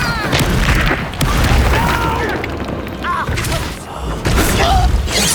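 The Expulso explosion spell is cast in the Hogwarts Legacy video game amid combat, with booming blasts and thuds mixed with spell effects, while a voice shouts spell incantations over the continuous clamor.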